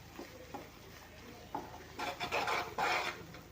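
A spoon scrapes and rubs through tamarind-leaf chutney in oil, soft at first, then louder rasping strokes in the last couple of seconds; no voices.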